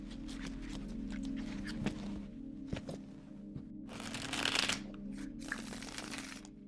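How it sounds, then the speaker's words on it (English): Tarot cards are shuffled close by in a quiet room, giving soft repeated riffles and papery slides with brief pauses, then two louder, denser bursts of card noise near the end. "There's a lot of different ways that readers will shuffle their cards."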